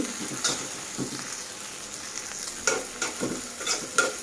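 Spice paste for a fish bhuna sizzles in a pan, a soft crackling bed broken by scrape-and-stir bursts at irregular intervals, close and moderately quiet, with no talking.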